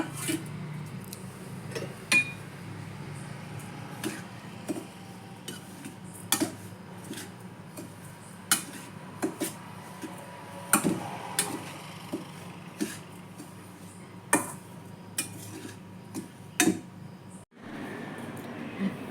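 Spice powder being mixed with grated dry coconut in a box gives quiet, sparse clicks and scrapes of a spoon against the container, spaced irregularly over a low, near-silent background.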